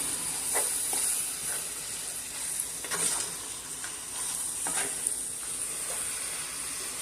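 Beef seasoned with pepper sizzles in a pan for beef stroganoff, making a continuous, fairly loud frying hiss with faint crackles and no talking.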